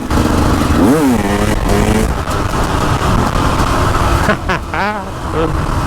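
A powerful motorcycle on a hill climb at Laxey Mines runs loud and close, its engine revving up and down in rising sweeps, with a voice talking over parts of it.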